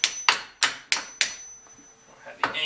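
Five sharp metallic hammer taps on a cotter pin during rack and pinion replacement on a 1986 Mustang GT land in a quick, even rhythm, then a pause and one more strike, close and ringing briefly.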